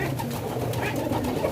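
Pigeons coo softly and repeatedly in low, burbling calls over a dense background hum.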